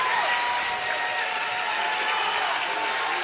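Home crowd at a 3A boys basketball substate final cheering and applauding during a run, a dense, steady roar of clapping and shouts with faint squeaks, no single voice standing out.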